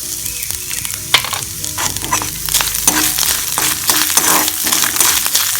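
Chana dal and grated coconut frying in a hot pan, a loud steady sizzle with crackling pops and occasional stirring scrapes, close and continuous with no talking.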